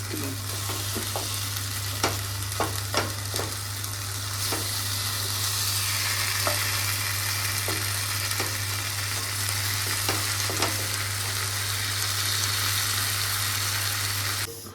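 Food frying in a pan in a home kitchen, a steady broadband sizzle holding throughout with occasional clicks and scrapes of stirring, close and fairly loud, with a constant low hum underneath.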